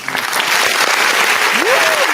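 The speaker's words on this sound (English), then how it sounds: "Let me see if you can hear the applause." An audience at a school event applauds, a steady wash of many hands clapping close by, with a brief voice or whoop rising near the end.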